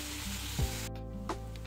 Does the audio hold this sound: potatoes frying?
yes